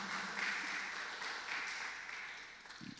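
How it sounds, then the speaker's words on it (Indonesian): An audience at a church youth service gives warm applause, a soft, somewhat distant spread of clapping that rolls on steadily for a few seconds before thinning out. "Beri tepuk tangan yang meriah."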